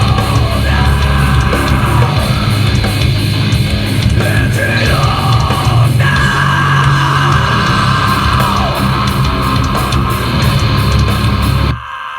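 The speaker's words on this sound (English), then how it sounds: "we added some distortion to his lead vocal" A long, harsh, distorted lead vocal scream, processed with a Decapitator distortion plugin, sustained loudly over heavy band music, holding for several seconds before cutting off abruptly.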